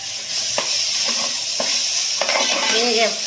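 Chili powder fries in oil for a crab curry, giving a bright constant sizzle with several short spoon scrapes against the pan, near and even.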